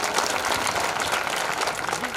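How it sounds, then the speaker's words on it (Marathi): The men's group in a village kirtan audience at Kali Do breaks into vigorous applause, a thick, even roar of many clapping hands close by. "पुरुष मंडळ टाळी वाजवा यांच्यासाठी एकदा जोरात"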